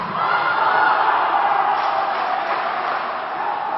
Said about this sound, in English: we hear the Canadian fans cheering loud